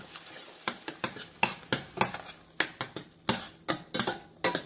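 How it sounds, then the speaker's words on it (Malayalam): Spoon stirring tomato puree in a pan for palak paneer, a quick, regular run of sharp scraping taps against the metal, close and moderately loud, about three strokes per second. "ശേഷം നല്ലപോലെ ഇളക്കുക."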